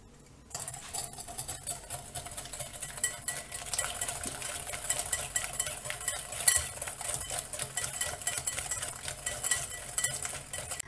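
A small whisk rapidly mixing sugar and instant coffee in a bowl, a steady, fast metallic scraping and tapping that runs close and continuous for about ten seconds, with no talking.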